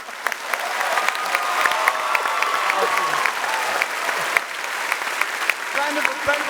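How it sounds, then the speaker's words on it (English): A convention panel audience at PAX West 2017 applauds voice actor Paolo at a Witcher 10th anniversary event; dense, sustained clapping from a large crowd fills the room, with a few sharper claps standing out throughout. "Round of applause for Paolo for his amazing voice work"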